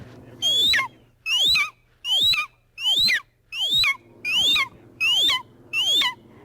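A person imitates an immature red-tailed hawk, giving eight evenly spaced, loud, descending screams about a second apart, each a rasping whistle that drops in pitch.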